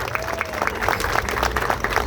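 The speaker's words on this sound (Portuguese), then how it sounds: "Quero aqui pedir uma salva de palmas calorosa ao padre Marco Aurélio" Steady applause and clapping from a crowd at the inauguration of a public square in Manaus, a continuous patter of many hands with no break.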